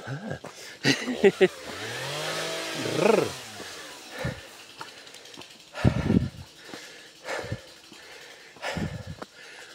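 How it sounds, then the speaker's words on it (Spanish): A chainsaw engine whines up and down in pitch a couple of times, somewhat distant, beside a country path in Asturias, Spain, followed by scattered knocks and brief sounds. "hay ruido ahí de motosierra"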